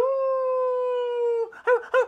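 A voice imitates a wolf howl with one long, steady, clear tone, then adds a few short yipping wavering calls at the end.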